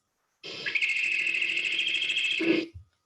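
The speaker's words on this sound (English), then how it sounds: "here is the great horned owl scream" A harsh, raspy great horned owl scream, loud and sustained for about two seconds, ending with a short lower rasp; no talking.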